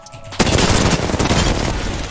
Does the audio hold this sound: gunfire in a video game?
yes